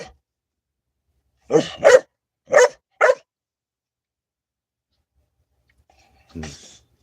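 Dog barking indoors: four close, sharp barks in quick succession, two nearly joined, then silence and a softer final bark or yip a few seconds later.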